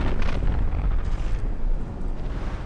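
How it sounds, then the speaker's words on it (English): Big explosions in a battleship tournament game, a rapid cluster of heavy booms and bursts, loud and rumbling with deep low end, several impacts overlapping and continuing throughout with no talk. "Damn big explosions coming in."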